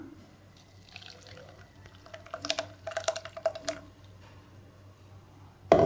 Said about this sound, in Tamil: மாம்பழ பழக்கலவையை இப்போ நம்ம வடிகட்டிக்கலாம்